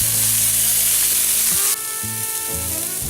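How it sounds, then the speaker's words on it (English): Chopped half onion frying in hot oil, a loud continuous sizzle close by with a low droning hum underneath that drops away briefly partway through. "On a hot oil, chop half an onion"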